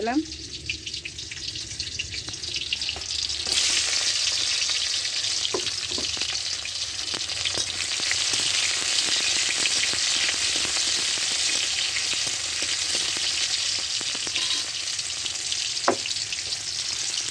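Chopped onion and crushed garlic fry in a pan with five-spice seeds for a crab dish, giving a steady, close, loud sizzle that swells after the first few seconds, with occasional stirring clicks throughout.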